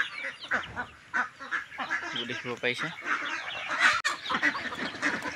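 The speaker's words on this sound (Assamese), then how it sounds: "লগতে হাঁহ এটা দুটাও আহিছে চাউল খাবলৈ" Ducks and chickens on a farm honk, quack and cluck close by in a busy, overlapping chorus, while a person talks over the birds throughout.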